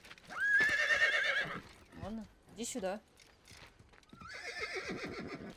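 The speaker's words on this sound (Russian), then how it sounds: "А где конь мой верный?" A horse in Assassin's Creed gives two loud, shrill whinnies with clopping hooves, plus a snort between them, as someone speaks briefly.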